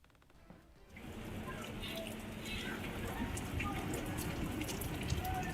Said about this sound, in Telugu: విజయవాడలో భారీగా వర్షం కురుస్తోంది.